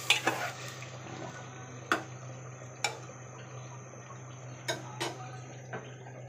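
Meat with bottle gourd stir-fried in a pan: a few sharp scraping clinks of a spatula against the pan at irregular intervals over a steady low hum and faint sizzle.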